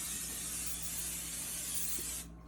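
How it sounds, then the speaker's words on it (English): Pam cooking spray hisses steadily onto a baking sheet for about two seconds, close and continuous, then cuts off into quiet room tone. "I'm gonna spray my cooking sheet"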